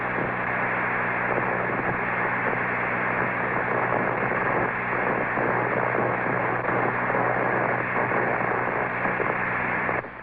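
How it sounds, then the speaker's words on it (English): Radio noise from the sun is picked up by radio astronomy stations, heard as a dense, steady hiss of static with a low hum beneath it that holds at an even level without a break. "Here's a sample of the radio message you send us on one of your noisier days"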